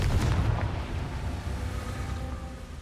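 A Confringo blasting spell explodes in Hogwarts Legacy on PS5 with a loud, deep boom, then a rumbling decay that carries on for a few seconds.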